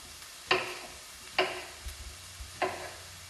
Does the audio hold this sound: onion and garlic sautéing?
yes